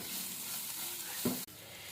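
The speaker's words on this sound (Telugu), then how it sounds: "వేగే వరకు ఇట్లాగా మంచిగా వేపుదాం" Coriander and masala spices frying in a pan for paneer bhurji give a steady close sizzle with a brief stir and clack of the spoon toward the end, and no voices over it.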